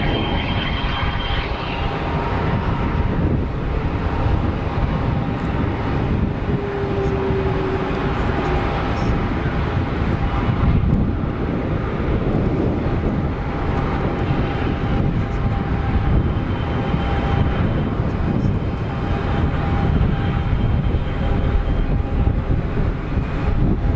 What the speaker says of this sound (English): Citation and some bucket reverser action as well